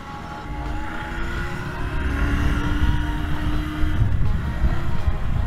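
Royal Enfield Interceptor 650 motorcycle under way, its engine a steady low rumble mixed with road and wind noise, continuous and fairly close.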